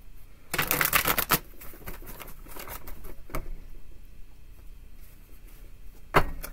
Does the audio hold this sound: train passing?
no